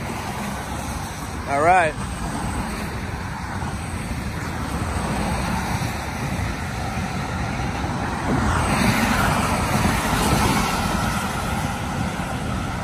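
Traffic passes on the Shore Parkway stretch of the Belt Parkway, a steady broadband roar that swells as a nearer vehicle rushes by, with someone talking briefly over it.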